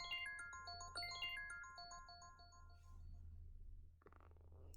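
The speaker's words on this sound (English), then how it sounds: "next is Crystals. They do sound crystally, rather mysteriously crystally" The classic iPhone ringtone Crystals plays alone: a bright cascade of descending chime-like tones in quick overlapping steps, ringing out and fading, with a brief soft rustle near the end.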